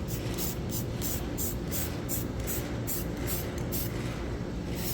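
Spray coating being applied to one side of an awning part for a Nissan R50 Pathfinder 4x4, a steady hissing spray with rhythmic pulses as the can sweeps back and forth, close and continuous.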